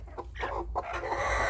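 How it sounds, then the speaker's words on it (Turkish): A broody hen clucking up close in short, throaty bursts, a few low grumbling calls in quick succession. "Bakın gurk gurk gurk ötüyor."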